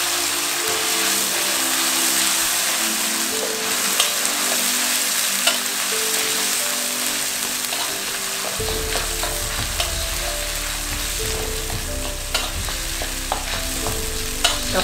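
Onion paste sizzles and fries steadily in oil over a low gas flame, with occasional stirring scrapes and clicks throughout; no voices are heard.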